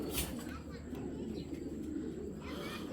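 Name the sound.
pigeon cooing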